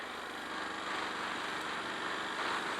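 A Ducati Scrambler 1100 motorcycle exhaust while riding, giving a steady, continuous engine drone with a broad rough texture. It holds an even level throughout, with no talking.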